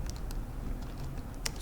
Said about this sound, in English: so I'm going to type sudo